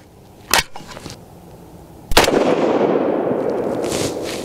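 A single sharp 22 ARC rifle shot cracks loudly at an outdoor range, followed by a long noisy rumbling decay, with a fainter earlier report a second or so before it.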